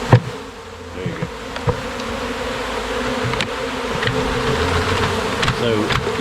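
Bees buzz loudly and continuously during a bee removal with a bee vacuum at an infested house, a dense droning swarm close by with intermittent clicks and knocks from handling.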